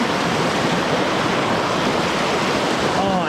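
River water rushing loudly through bouldery pocket water on a late-season Australian fly-fishing river, a dense continuous roar heard close by with no voices.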